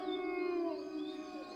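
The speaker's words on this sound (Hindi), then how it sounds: "दूर से किसी कुत्ते के भौंकने की आवाज आ रही थी" A lone dog howls at night, a sustained wavering tone that bends slightly downward, moderately faint as though heard from a distance, with no other sounds.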